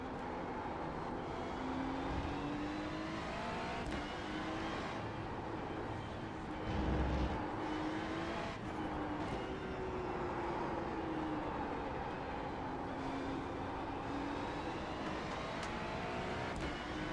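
A Ferrari GT3 race car engine in the iRacing simulator at Sachsenring runs steadily under gentle throttle on the final lap, its tone rising and falling with the revs over a continuous drone with no talk.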